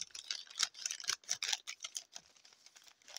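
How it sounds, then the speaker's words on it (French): A pair of worn, poor-quality scissors snips quickly several times in a row, close and crisp, with no voices. "on va prendre des ciseaux pour que ça fasse moins de bruit"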